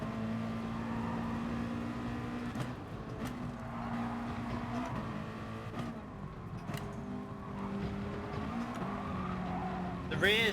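Race car tires sliding and skidding in Gran Turismo Sport, a steady engine drone with a sustained scrubbing squeal running the whole stretch, a sharper rise near the end, while a person talks over it.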